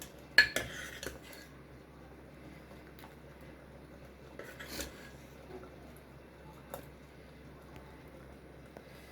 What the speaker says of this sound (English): Now I am taking it to a serving bowl